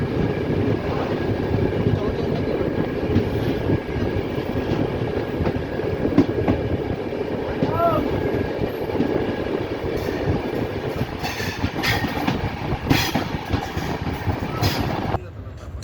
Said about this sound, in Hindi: अभी हमारी ट्रेन जो है वो 109 किलोमीटर प्रति घंटा की रफ्तार से चल रही है